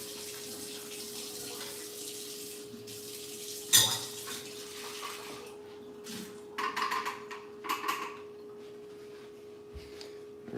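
Tap water running steadily into a sink while an old blender is rinsed out, with a constant hiss and a low hum underneath, broken by several sharp knocks and splashes of the jug against the basin.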